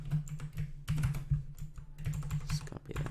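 Keys clatter on a computer keyboard in quick, uneven bursts with short pauses, close and clear with no talking over them.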